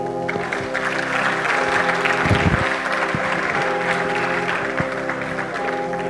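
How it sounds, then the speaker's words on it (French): An audience applauds a live show performance, a dense steady clapping with a brief louder surge midway, with a voice faintly over the crowd. "Sous votre applaudissement"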